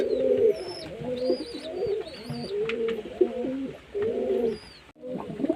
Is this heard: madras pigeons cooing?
yes